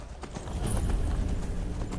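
Steady clip-clop of a horse's hooves in the Skyrim video game: a close, even trot of hoof strikes over a low background rumble, with no talking.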